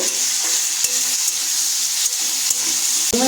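Chicken and kolmi greens stirred and sautéed in a hot pan with salt and green chillies, a steady close sizzle with scraping spatula strokes at irregular intervals and no talking.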